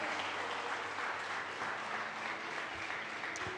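Steady applause from a church congregation fills a worship service, dense clapping sustained throughout at moderate level with no voices over it.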